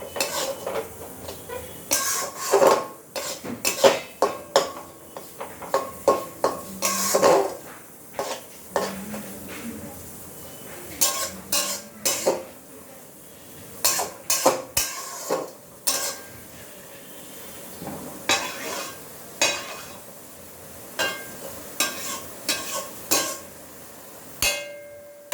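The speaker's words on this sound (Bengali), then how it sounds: "এটাকে ভালো করে ফ্রাই করে নিতে হবে, নাড়াচাড়া করে নিতে হবে।" Chicken frying in a pan for chicken kanti, stirred with a metal spatula: repeated scraping and clanking strikes against the pan in irregular bursts over a soft sizzle, heard close with no talk.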